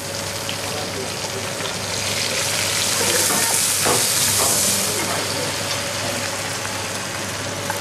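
Beef sears in a pan of sunflower oil and foaming butter while being basted, giving a loud, continuous sizzle that swells in the middle, with a low steady hum underneath.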